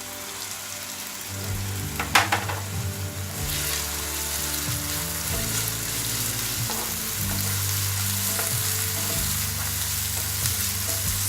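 Chopped onion fries in a pan with mustard seeds for poha, a steady loud sizzle with a few sharp crackles and stirring clatter, no talking.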